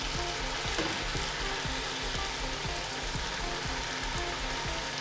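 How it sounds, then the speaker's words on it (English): Steady, dense sizzling and bubbling of pani puri dough rounds frying in hot oil, loud and close throughout, with a faint rhythmic ticking underneath. "you want to add them one by one into the oil, and then just try to submerge them into the oil"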